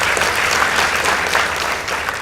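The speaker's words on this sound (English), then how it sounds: "Kindly give them a round of applause." An audience applauds the Tala boys team at a school debate between Tala High School and Makueni Girls High School, with steady, dense clapping filling the room throughout.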